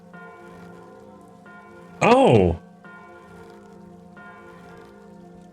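A strange bell rings in the video game Guild Wars 2, a steady, sustained tonal chime that continues throughout, briefly interrupted by a short spoken exclamation.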